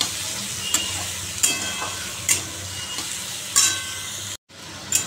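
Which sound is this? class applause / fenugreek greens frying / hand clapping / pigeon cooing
fenugreek greens frying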